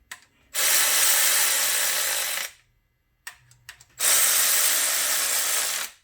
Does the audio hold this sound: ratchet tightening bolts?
yes